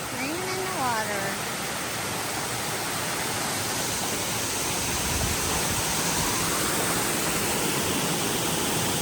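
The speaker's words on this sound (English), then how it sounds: "I'm gonna walk up into the creek, up into the waterfall." Waterfall pouring into a creek gives a steady, close, full rushing wash that holds even throughout, with a short voiced sound near the start.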